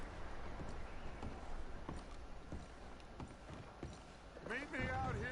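In Red Dead Redemption 2, horse hooves give a slow, irregular clip-clop at moderate distance, joined by a spoken voice near the end.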